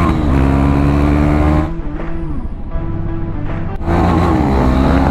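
A KTM Duke 390 motorcycle engine revs loud and close, its harmonic drone easing off briefly mid-clip before climbing back to a steady rasp, with no talk over it.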